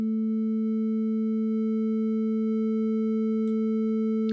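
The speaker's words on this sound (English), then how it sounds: "Now if I turn up the triangle wave, which is still at 440 Hertz," Synthesizer oscillators at 440 Hz, a sine wave layered with a triangle wave, hold a steady, loud tone with a bright stack of even overtones and no pauses; a faint click or two near the end.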